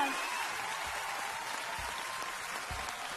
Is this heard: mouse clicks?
no